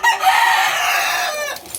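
A fighting cock crows loudly and close, one harsh, strained cock-a-doodle-doo lasting under two seconds and trailing off at the end.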